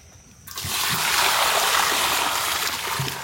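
Fresh water pours into a cooking vessel for village-style Mysore pak, a sudden loud rushing splash that starts abruptly and keeps streaming steadily before easing slightly at the end.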